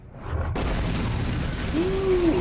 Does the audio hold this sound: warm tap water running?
no